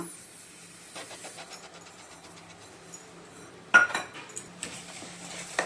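Mango jam with sugar being stirred in a pan: intermittent metal spoon clinks and scrapes against the pan over a low steady hiss, with one louder knock partway through.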